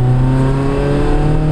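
BMW E36 318is accelerating in second gear, an in-car engine note rising steadily in pitch as revs climb, loud and continuous with no talk.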